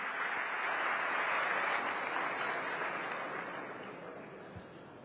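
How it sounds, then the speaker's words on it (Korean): Sustained audience applause fills a hall as a formal speech event in Cairo opens, a dense wash of clapping that holds steady before slowly tapering off, with no voices over it. "따뜻한 박수로 환영해 주시기 바랍니다."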